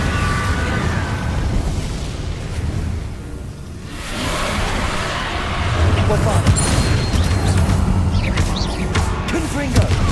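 A fire spell from Hogwarts Legacy goes off in a fight against Inferi, with whooshing bursts and booming flame blasts over dense game noise, dipping briefly before another surge of crackling impacts.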